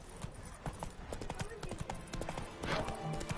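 Hooves of a horse in The Witcher 3 clip-clop in a steady rhythm close by, mixed under someone talking over the game.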